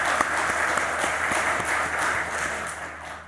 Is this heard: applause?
yes